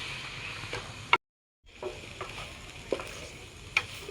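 Momo filling of vegetables and egg being mixed in a bowl after soy sauce and vinegar go in, soft wet stirring with a few light clicks of a spoon, interrupted by a brief dead silence, quiet and close.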